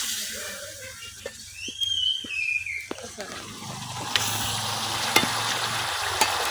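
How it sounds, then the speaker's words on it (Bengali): Large fish heads are stirred through spice masala in a crowded wok: scraping stirring strokes and clicks over a continuous frying sizzle that swells partway through, with a bit of voice. "মাছের মাথার সাথে মশলাটা খুব ভালোভাবে মিশিয়ে নিছি।"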